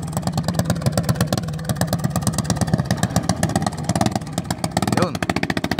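A racing boat engine at a Bangkarera boat race festival sputters and revs up with pulsing, uneven firing, loud and near, mixed with crowd noise and a commentator's voice.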